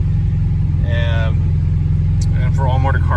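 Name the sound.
Honda car engine revving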